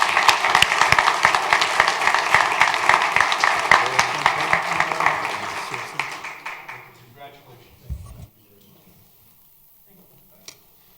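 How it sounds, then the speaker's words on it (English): Audience at a Wheat Ridge city council meeting gives a round of applause for a retiring Parks, Forestry and Open Space Division worker. Many hands clap steadily, then thin out around six seconds and fade to scattered claps and quiet room noise. "So let's give him a round of applause and wish him well."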